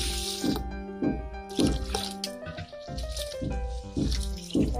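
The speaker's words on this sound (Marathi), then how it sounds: "आता याला स्वच्छ धुवून घ्यायचं आहे।" Water splashing and pouring in a pot as soaked idli ingredients are rinsed by hand, with repeated sloshing bursts roughly every second, close and fairly loud.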